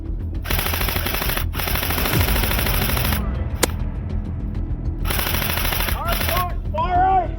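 Airsoft guns fire in long sustained automatic bursts during a skirmish game, with a brief pause and a sharp single crack midway, close and loud, while players shout callouts between volleys.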